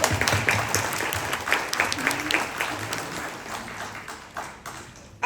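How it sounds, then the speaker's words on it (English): Audience applause for the panelists at a second-generation Burmese-American panel discussion, a scattered round of clapping with taps rising and falling across the room for about five seconds, low murmuring voices underneath. "I wanted to give a round of an applause to my fellow panelists"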